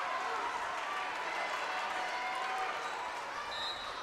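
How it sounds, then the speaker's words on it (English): Home crowd of Wolfe County fans at a 14th Region volleyball championship, a steady wash of cheering and chatter filling a gym, moderately distant and unbroken throughout. "Wolfe County crowd trying to get them into it"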